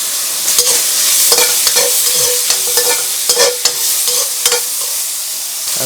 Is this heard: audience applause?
no